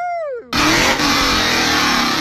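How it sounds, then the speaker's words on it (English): A car engine revs hard and loud at close range, roaring up suddenly after a brief fading tone and holding a strong, steady, high rev. "Rev the engine up for the video."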